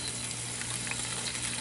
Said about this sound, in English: And hear that little sizzle.